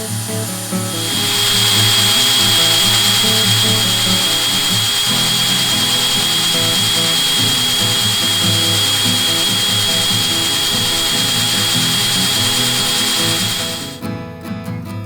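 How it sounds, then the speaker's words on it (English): Shop-made portable drum sander running over a wooden pattern taped to a workbench, moving right to left: a loud, continuous motor whine with steady high-pitched tone and rough rubbing texture, lasting about thirteen seconds before cutting off. "I'll put that drum sander on and I'll show you how it works"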